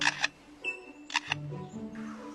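A bird mimics a camera shutter, giving several quick clicking bursts in pairs, close and fairly faint against a quiet forest background.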